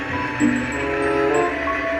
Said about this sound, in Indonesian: kereta api Argo Wilis akan keluar dari area terowongan